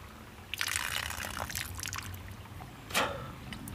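Water is blown back out through a portable bushcraft water filter to clear sediment, giving a hissing, spluttering spray that starts abruptly, continues in bursts, and surges again near the end, close and moderately loud with no talk.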